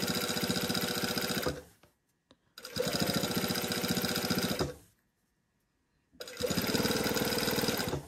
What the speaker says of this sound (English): I'm just gonna line it up and sew right down the middle of the twill tape